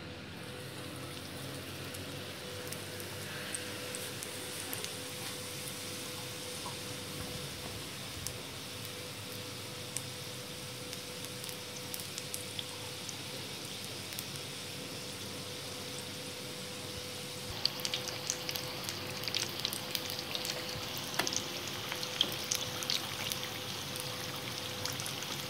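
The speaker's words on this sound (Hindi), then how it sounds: "इस तरह से हमने डीप फ्राई करना है इनको।" Samosas deep frying in hot oil, a steady broadband sizzle that runs the whole time and grows a little louder and brighter partway through, with no talk.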